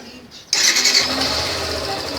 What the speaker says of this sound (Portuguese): só vou mostrar pra vocês aí, embora você já conheça, o barulhinho do motor original